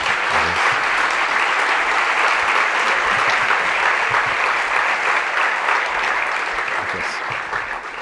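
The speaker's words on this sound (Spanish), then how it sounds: "recibirle con un fuerte aplauso" Loud, sustained audience applause fills a conference hall as a speaker is welcomed, dense steady clapping with no voices, tapering slightly near the end.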